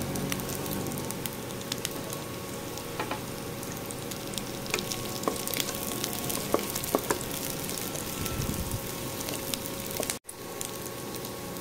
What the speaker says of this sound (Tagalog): ilagay na natin yung pork